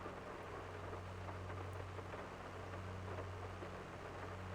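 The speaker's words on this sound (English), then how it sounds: "I do love the sounds the rain makes on the tractor cabs." Rain drumming on a tractor cab in a farming video game, a soft, even hiss with a low steady engine hum underneath, faint and continuous with no voices.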